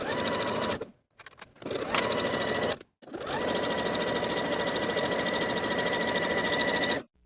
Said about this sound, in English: Then we can sew this seam with a 3/8 inch seam allowance.